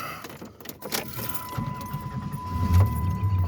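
Keys jangle and click in the ignition of a 1999 Plymouth Voyager, then the engine cranks and catches, settling into a low, rumbling idle close by.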